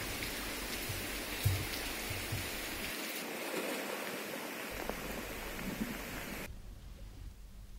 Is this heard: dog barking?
no